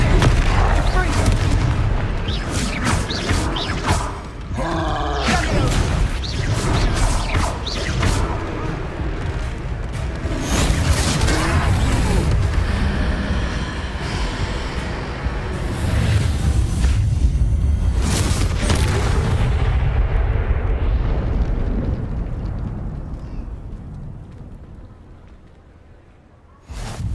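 Confringo blasting spells from the Hogwarts Legacy video game go off in a dense run of loud booming explosions with crackling debris, fading out near the end. Busy game effects and voices mix in.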